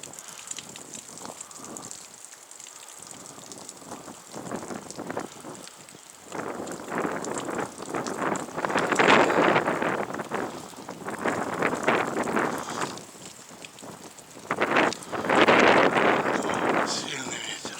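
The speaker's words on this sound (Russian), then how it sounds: "Сильный ветер." A strong southerly wind of about 15 m/s roars in rising and falling gusts, buffeting the microphone loudly and hissing steadily throughout.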